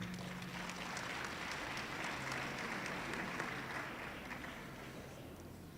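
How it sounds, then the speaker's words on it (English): An audience at a certificate handover ceremony breaking into sustained applause, a dense wash of clapping that carries evenly for several seconds and fades slightly at the end. "if you can give the Premier and the team a big applause for that"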